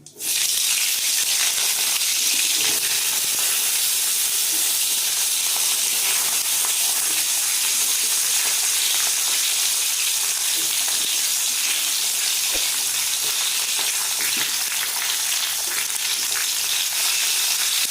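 Cut flat beans dropped into a hot pan where fish was just fried, giving a loud, continuous, close-up hissing sizzle that holds steady throughout.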